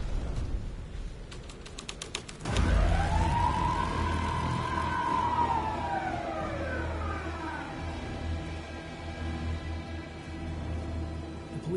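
Police car siren in the Alan Wake 2 video game: after rapid typewriter-like clicking, a deep thump opens into a long rising and falling wail, moderately loud over a steady low ambient rumble.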